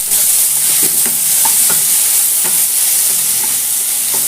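Tomatoes and chopped vegetables for sambar sauté in a hot pan, a loud, steady sizzle filling the background while a spoon stirs and taps the pan at irregular intervals.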